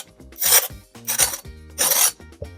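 A knife cuts through the crisp crackling skin of a roasted piglet, making three loud, rasping crunches with short pauses between them, close up and with no talk.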